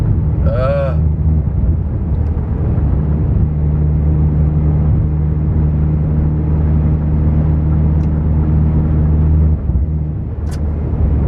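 A tuned VW Golf GTI engine idles close by while misfiring, with a steady, low droning rumble that runs unbroken through the whole stretch.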